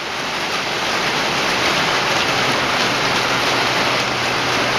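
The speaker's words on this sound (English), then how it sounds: "Eating in the sunroom, in the rain." Heavy rain pours loud and steady outside a sunroom, a dense, unbroken hiss that fills the whole stretch with no voices over it.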